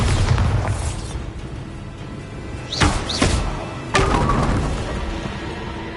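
A Bombarda spell explodes in the video game Hogwarts Legacy, giving a deep booming blast with a couple of whooshing, cracking bursts, loud and close over continuous game background noise.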